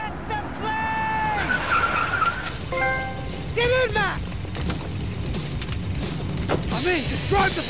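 Car engine and squealing tires in Max Payne 3, with repeated sharp skid squeals and revving over a steady engine drone, mixed with speech.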